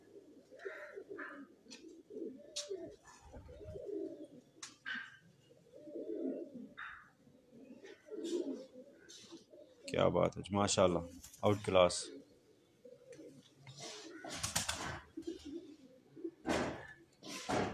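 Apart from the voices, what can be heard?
Lakha golden pigeon cooing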